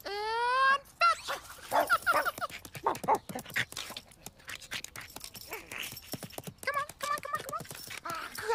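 A puppy yelps and whimpers during a game of fetch, giving a run of short excited barks and whines mixed with clip-clop tapping and close talking voices.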